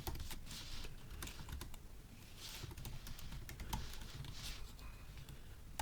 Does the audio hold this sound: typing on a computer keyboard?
yes